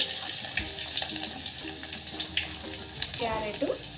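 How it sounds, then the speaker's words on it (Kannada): Onions, curry leaves and green chillies sizzle and crackle in a hot pan for shavige upma, a steady close frying hiss with occasional stirring clinks and scrapes. "ಹಾಗೆ ಈರುಳ್ಳಿಯನ್ನು ಕೂಡ ಹಾಕ್ತಾ ಇದ್ದೀನಿ."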